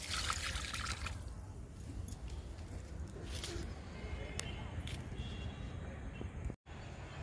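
Liquid fertilizer is poured from close by onto a small hibiscus growing in a small tub, making a steady trickling, splashing stream with brief pauses and faint outdoor sounds in the background.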